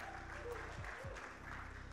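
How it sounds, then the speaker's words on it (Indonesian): Audience applause at an indoor Christian conference event in Indonesia, a steady wash of clapping from a crowd lasting the whole moment at moderate level, with a low musical hum underneath. "Tepuk tangan dulu dong yang paling kenceng."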